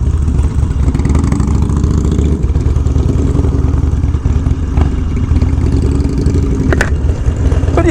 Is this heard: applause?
no